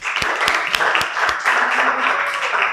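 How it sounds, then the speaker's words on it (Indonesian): A classroom group applauds at the end of a mechanical engineering lesson, a steady wash of clapping from many hands with a few sharper individual claps standing out, filling the room for nearly three seconds. "beri aplaus untuk kalian semua"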